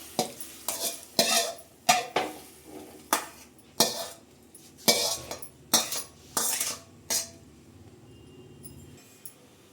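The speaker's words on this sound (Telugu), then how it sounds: "ఇప్పుడు దీన్ని ఫ్రై కానివ్వాలి పాలకూర" Spinach for palak chutney stirred in a pan, a dozen or so sharp scraping clatters of a spoon against metal at an uneven pace, with faint frying beneath and no voices.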